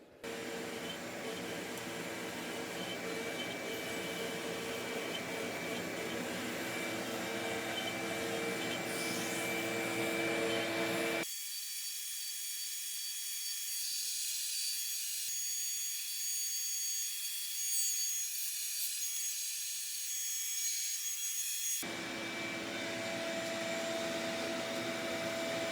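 A CNC router carves an inlay pocket into a wooden cutting board, a loud, steady high whine of spinning bit and dust-extraction roar running continuously, briefly shifting to a thinner, hissing tone midway.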